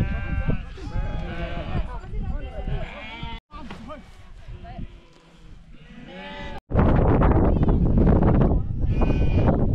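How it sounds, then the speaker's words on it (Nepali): Several loud, close sheep bleats, wavering and repeated, with people talking nearby and gusts of wind buffeting the microphone toward the end. "भेडा भएको भेडा माथि देखिरहेछ"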